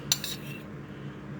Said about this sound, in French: Là maintenant je vais passer mes carottes au beurre pour les rendre un peu brillantes.